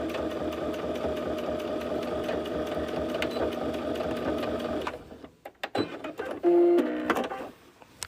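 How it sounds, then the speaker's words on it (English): A sewing machine runs steadily while stitching a bag seam for about five seconds, then stops and does short back-and-forth bursts of backstitching with clicks and a whirring rev. "I'm just going to go just past it and then back stitch"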